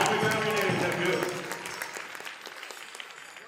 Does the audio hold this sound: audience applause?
yes